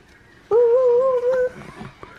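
A child imitates a dog that sounds almost like a wolf, giving one sustained, wavering howl-like tone close up, followed by brief faint background noise.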